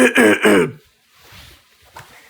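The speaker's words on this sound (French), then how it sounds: "Quand on tousse, il faut surtout rien faire." Someone speaks briefly, then a few short, quiet coughs and throat clears follow close to the microphone in the pause after the voice.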